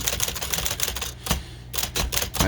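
Rapid typing on a Smith Corona 5TE typewriter with a modified shift: fast bursts of sharp metallic key strikes, a brief pause, then more quick clacking close to the microphone.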